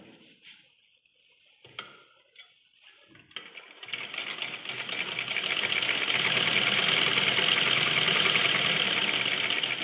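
A sewing machine runs straight stitches through cloth: a few mechanical clicks and handling sounds come first, then a steady, loud, rapid whirring hum builds and keeps going.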